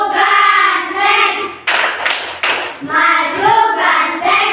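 Children perform a group clapping game, giving three sharp, close-spaced clap bursts in the middle of loud rhythmic chanting voices.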